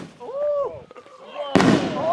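Fireworks set off among friends send up rising whistling tones, followed by a sudden sharp crackling burst, with people's voices heard nearby.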